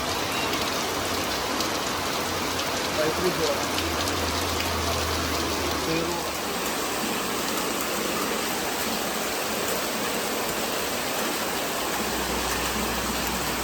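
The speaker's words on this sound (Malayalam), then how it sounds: "പക്ഷേങ്കിൽ ഭയങ്കര മഴയാണ്" Heavy rain falling steadily near a temple, a dense, continuous hiss and patter of downpour with a low rumble underneath, loud and close throughout.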